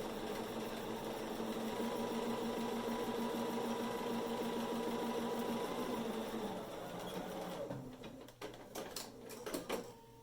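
A domestic sewing machine stitches a fabric face mask with a steady fast mechanical whir for about seven seconds, then stops, followed by soft clicks and handling noises.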